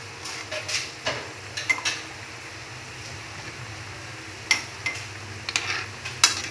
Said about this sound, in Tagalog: Tsaka haluin.